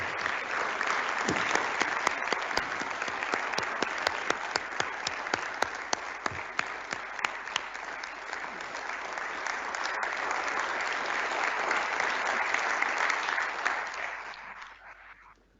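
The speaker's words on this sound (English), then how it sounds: "let's give our two guests today and all of Aldevron a round of applause" An audience at the North Dakota 2021 State of the State address applauds, a sustained wash of clapping with sharp individual claps standing out, holding steady for about fifteen seconds before fading away at the end.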